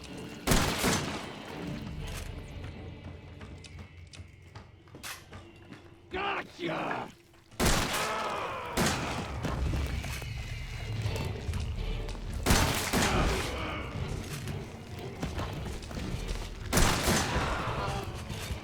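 Gunfire rings out in Resident Evil 7, with scattered loud shots and thumps spread across the stretch, some in quick bursts, and a voice speaks briefly between them.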